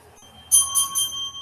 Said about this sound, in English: dinner bell.